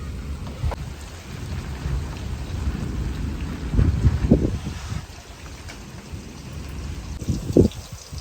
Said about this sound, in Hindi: बारिश जो है वो काफ़ी ज़्यादा हो रही है